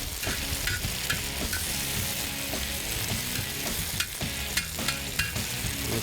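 Onions and peppers in olive oil sizzle steadily on a grill, a constant bright frying hiss with occasional sharper crackles and utensil clicks, close and fairly loud with no talking.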